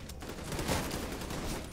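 Rapid gunfire bursts in The Division 2, a dense, continuous crackle of shots filling a short stretch at steady loudness, with no talk.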